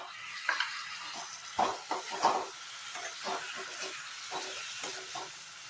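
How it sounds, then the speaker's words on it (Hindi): Chicken dropped into frying tomato and onion, bursts of sizzling and hissing steam with stirring clatter, moderately loud and close, no talking. "अब इसमें हम चिकन डाल रहे हैं।"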